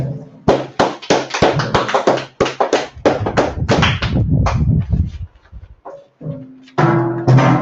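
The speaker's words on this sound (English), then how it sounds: "clap it up" A group in an online class claps along in a quick run of sharp, loud, closely spaced claps that thin out and give way to a voice speaking near the end.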